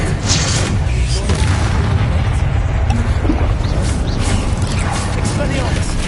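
Confringo blasting spells exploding during combat in Hogwarts Legacy, a dense, steady roar of booms and crackling mechanical clatter that fills the whole stretch without letting up.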